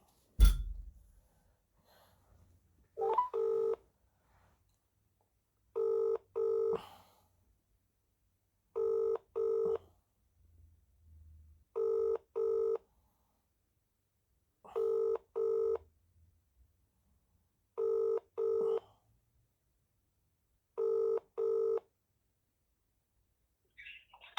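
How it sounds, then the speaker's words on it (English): Telephone call with a short burst of dialing at the start, then a repeating double ring, seven pairs spaced evenly, with quiet stretches between and no talking. "Ring up Graeme Kenna."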